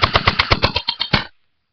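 A rapid burst of about a dozen airsoft gun shots strikes body armor in a quick, loud, close rhythm, then stops abruptly into silence.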